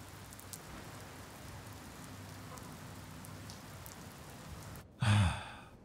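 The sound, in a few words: heavy rain falling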